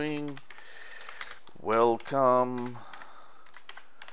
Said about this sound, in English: I can post updates to the group here just by typing